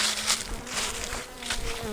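Honey bees buzz faintly around a honey super pulled in fall, with soft handling noises and scattered rustles over the thin, steady drone.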